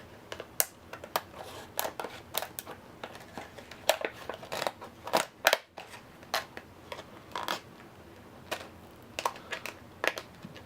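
Scissors snipping into the card packaging of a Star Wars: Imperial Assault Boba Fett villain pack, a steady run of close, sharp crisp cuts and crinkles with short pauses between them, no talking.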